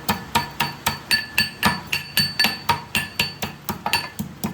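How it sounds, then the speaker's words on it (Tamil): Rapid, steady pounding of ginger in a mortar, about three dull thuds per second with a metallic clink, close by and continuing without speech. "இப்போ வந்து இஞ்சி போட்டு தட்டிக்கலாம்."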